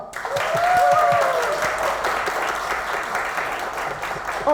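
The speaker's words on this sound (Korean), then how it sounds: "제가 Come Together 하면 우리 박수 치면서 시작을 해요" An audience at a comics-industry expert panel applauds, with sustained clapping that fills most of the few seconds at fairly high volume. A few voices and cheers rise through the applause.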